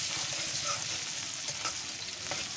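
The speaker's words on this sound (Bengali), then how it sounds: "তেলটা গরমের সাথে দিয়ে দিলাম পেঁয়াজ কুচি।" Chopped onion dropped into hot oil sizzles steadily with a bright, dense frying hiss and a few soft stirring sounds, close up and with no talking.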